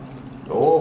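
Fuel-gas mix poured by hand down into the engine of a salvage-yard 1989 Dodge Daytona, a short gurgling liquid pour that swells in for under a second over faint background noise.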